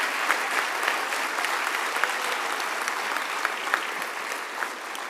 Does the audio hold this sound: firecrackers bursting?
no